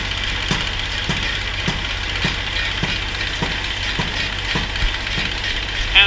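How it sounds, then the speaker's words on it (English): A feed grinder grinding pig feed on a hog farm, running loud and close with a steady mechanical drone and a regular clacking beat roughly every half second, no talking. "We're going to grind more feed and even more feed."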